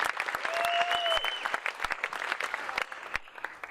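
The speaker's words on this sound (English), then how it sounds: "Give him a round of applause." Audience applause after a speaker is thanked at a talk on testimonials: a burst of brisk, distinct hand claps that thins out toward the end, with a brief tonal whistle early on.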